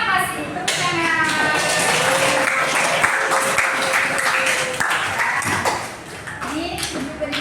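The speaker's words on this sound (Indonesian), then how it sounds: "Tepuk tangan" Students in a classroom applaud together in a steady patter of mixed claps that runs for several seconds, with young voices calling out over the clapping.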